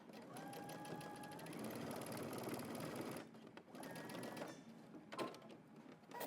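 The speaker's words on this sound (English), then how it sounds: "I'm just going to baste the very top at the neckline." A sewing machine stitches a basting line along the top of a jacket neckline, its needle chattering in a steady run that pauses briefly around the midpoint and again near the end, close and fairly quiet.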